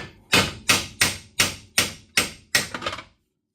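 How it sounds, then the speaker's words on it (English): Six sharp metallic hammer taps on the wheel hub of a CFMOTO ZFORCE 950 HO EX to break a ball joint loose, steady rhythm, close and loud, the last one followed by a brief rattle before silence. "So we'll just tap this with a hammer."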